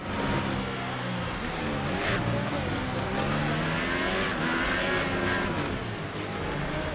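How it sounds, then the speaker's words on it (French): A Renault-engined Formula 1 car in F1 2018 runs at steady, loud engine drone with shifting harmonic whine, the note wavering and dipping as the engine loses power, continuous throughout with no voices. "Oh, la voiture qui perd de la puissance, semble-t-il."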